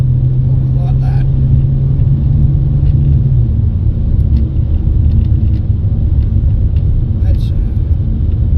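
An MG HS 2.0 car accelerating at three-quarter throttle, heard from inside: a steady, loud engine rumble and road drone that holds throughout, with no voices.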